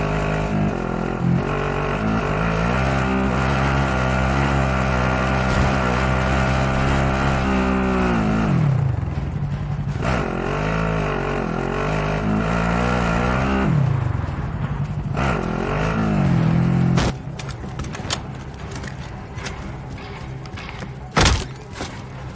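A vehicle driving in the video game Warzone, a steady, loud engine drone with shifting pitch that dips and surges twice, then gives way to scattered thumps and clatter near the end.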